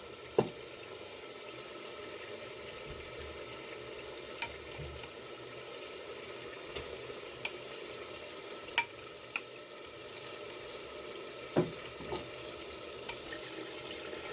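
Boti meat pieces for gulfam gosht fry in a pan with green chilies, giving a steady low sizzle throughout, broken by a few sharp clicks and scrapes of stirring; no one speaks.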